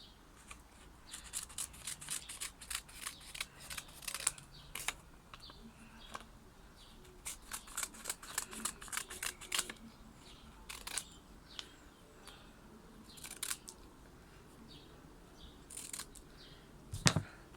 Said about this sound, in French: on va venir couper les contours